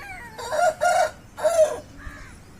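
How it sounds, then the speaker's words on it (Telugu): A parrot-beak long-tail breed rooster crows in several rough, broken bursts, close and fairly loud, ending with a short softer call. "చిలక ముక్కు అండ్ లాంగ్ టైల్ పుంజు"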